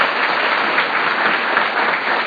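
A conference audience at a tech event gives Isaac a round of applause, a steady, even wash of clapping from many people that holds at a constant level throughout.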